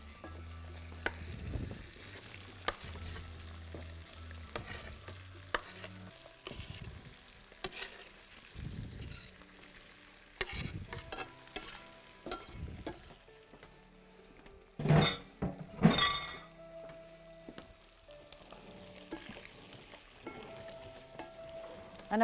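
Beetroot going into a hot pan while cooking beetroot soup with cream, sizzling steadily with scraping stirs and a few clanks of utensils, close and moderately loud with no talk.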